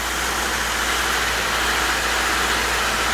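A cold Subaru Levorg MY17 engine idles steadily just after starting, with a rough, constant rumble and hiss, loud and close, no talking.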